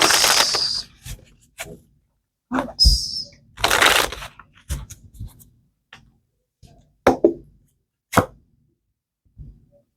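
Tarot cards shuffled by hand in several bursts of crisp riffling and flicking, close and clear, with short pauses between bursts and no talking.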